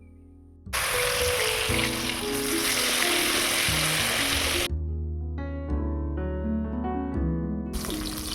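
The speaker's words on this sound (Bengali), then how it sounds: "এবারে ঢ্যাঁড়সগুলো ভেজে নেব" Okra hits hot white oil in a wok with a loud, bright sizzle that holds steady for several seconds, then cuts out as background music continues, and the frying returns near the end.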